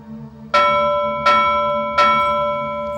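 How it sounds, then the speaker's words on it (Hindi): A bell is struck three times at a steady pace, each strike ringing clearly and fading slowly before the next one. "बंद कर घंटी बजाना"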